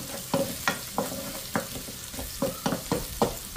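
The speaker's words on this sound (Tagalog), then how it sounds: "I-golden brown ko lang ng bahagya yung ating bawang, tapos palalabasin lang natin yung aroma ng sibuyas" Garlic and onion sauté in hot oil for buttered chicken adobo. A sizzle runs underneath while a spatula scrapes the pan in quick, regular strokes about three times a second, loud and close.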